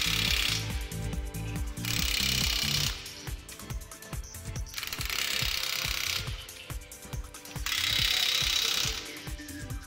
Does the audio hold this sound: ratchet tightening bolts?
yes